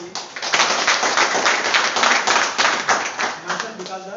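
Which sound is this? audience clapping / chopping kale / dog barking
audience clapping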